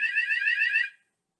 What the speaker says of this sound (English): And I'm going to pause there to let this alarm finish.